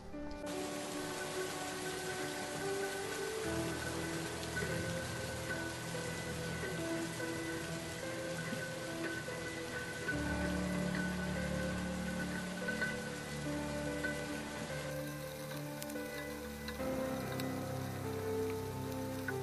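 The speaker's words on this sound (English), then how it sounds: "The video shows footage taken during a heavy rainy night" Heavy nighttime rain in eastern Kentucky during severe flooding in April 2021 pours steadily onto a home's entrance courtyard, a dense continuous hiss of drops with no voices.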